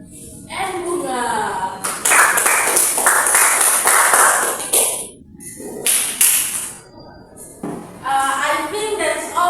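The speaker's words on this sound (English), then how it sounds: "Give applause to Rahmat and Aidin." Classroom applause for students after a lesson: bursts of close, loud clapping from a group, alternating with a teacher and children talking between the rounds.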